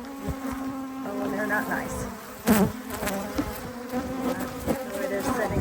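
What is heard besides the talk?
buzzing swarm of Africanized honey bees in hive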